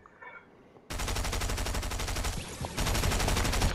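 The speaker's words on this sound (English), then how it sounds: "That was me shooting him." Loud, sustained automatic gunfire in the video game Fortnite bursts in after a quiet moment, a dense rapid rattle that pauses briefly and then resumes, close and continuous with no voices.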